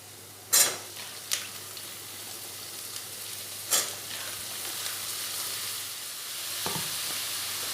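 Chopped pumpkin stalks and eggplant frying in a pan with onions, producing a continuous close sizzle punctuated by a few sharp clatters and scrapes of a stirring utensil.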